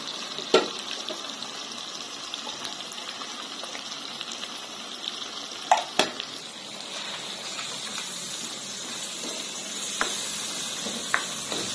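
Spices and black pepper frying in ghee give a steady, soft sizzle and crackle throughout, with a few sharp clinks of a spoon against the pot.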